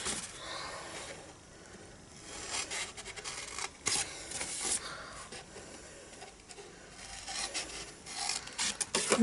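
Scissors cutting a paper gift bag up to a score line: close, soft rasping snips and rubbing of paper in uneven bursts, fairly quiet, with no talk over them.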